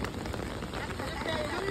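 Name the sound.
rain falling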